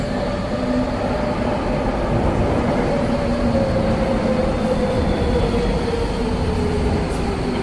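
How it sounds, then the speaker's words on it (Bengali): A DLR train pulls into a London station platform, a loud steady rumble with rising and falling tonal whine from the motors and wheels, with no voices. "একটি ট্রেন এসে গেছে"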